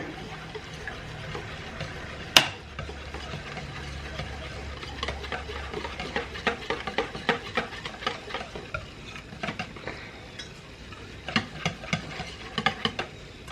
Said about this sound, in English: And we're going to just stir that all together.